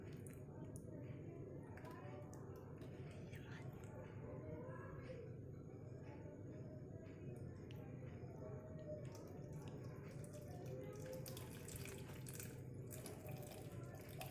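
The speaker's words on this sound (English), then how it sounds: "Now I am putting water into the rainwater harvesting system." Water poured into a small model rainwater harvesting system, a steady low trickling and splashing flow that runs continuously and quietly throughout, with a faint voice in the background.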